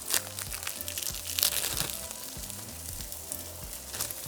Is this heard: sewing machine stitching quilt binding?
no